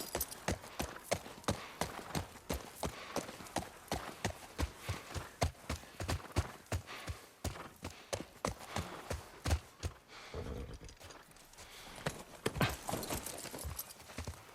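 Horse hooves clop in a quick, steady rhythm while riding in the video game The Last of Us Part One, close and distinct, with a brief lull before the hoofbeats resume.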